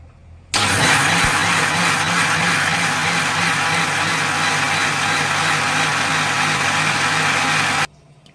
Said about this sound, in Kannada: ಇವಾಗ ಮಿಕ್ಸಿ ಮಾಡ್ಕೊಳ್ಳೋಣ